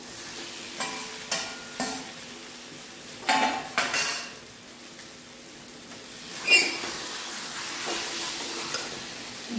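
Fried eggs dropped into cooked egg curry masala in a pan, a few clinks and scrapes of a utensil against cookware over a soft background sizzle, close and otherwise quiet.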